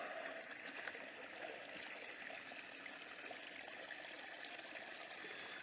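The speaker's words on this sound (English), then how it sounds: "That's draining good now." Water draining off a freshly watered field, a steady broad trickling rush that holds even and unbroken throughout, close by with no talking.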